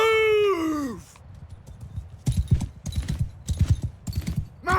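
Horses galloping in Mount & Blade 2: Bannerlord, a rapid, loud clip-clop of hooves after a brief whinny at the start, pounding on in dense uneven bursts with no talk over it.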